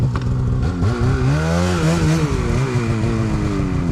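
An Arctic Cat snowmobile launches hard from a standstill, its engine roaring loud and close with a rising, strained pitch as it accelerates, with no voices over it.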